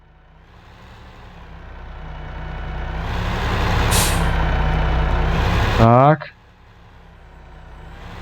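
A heavy truck engine in Farming Simulator 15 roars steadily louder under throttle, then an air brake hisses sharply before the engine drops to a low idle; someone speaks briefly.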